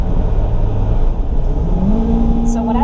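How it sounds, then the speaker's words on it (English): A 2002 Toyota Celica GTS with automatic transmission drops from fourth to second gear, its engine pitch climbing into a rising rev inside the cabin, steady and loud beneath someone talking. "So when I step down, the engine actually, or the transmission actually downshifts from 4th gear to 2nd gear."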